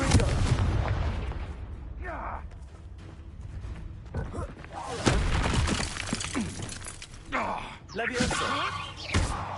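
A Confringo explosive spell goes off in Hogwarts Legacy, sending out a series of sharp blasts, cracks and shattering impacts with echoing debris. Game voices and other effects are heard among the explosions.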